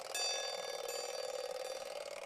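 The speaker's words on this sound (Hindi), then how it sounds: "ये सर अलार्म बज रही है" An old-fashioned wind-up joker alarm clock rings in a continuous metallic bell clatter, close and fairly loud. The clatter stays steady for about two seconds, with a brief stutter near the start and no speech.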